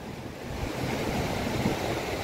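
Rough, high surf rolling in at Gravatá beach in Navegantes, Santa Catarina, a steady, close roar of breaking waves mixed with wind buffeting the microphone, with no voices.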